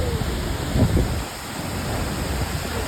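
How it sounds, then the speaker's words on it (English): A continuous roar of water from the huge Khoupum waterfall, steady and enveloping, with a brief low bump near the start. "waterfall at Khoupum khẩu đoan, huge waterfall"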